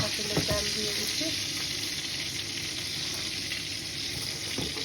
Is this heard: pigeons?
no